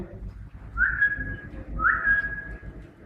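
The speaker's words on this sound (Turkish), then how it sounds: "Bu da ıslıkla köpeğe bir nevi komut veriyorsunuz." Two short, shrill human whistles, each rising quickly and then holding, sound about a second apart over low room noise, given as a command to a beagle.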